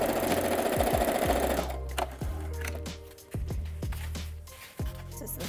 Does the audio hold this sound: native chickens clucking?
no